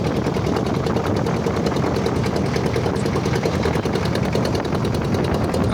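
A bhotbhoti boat engine on the Shitalakshya river chugs loud and unbroken, a dense rapid rattling drone close by with no voices.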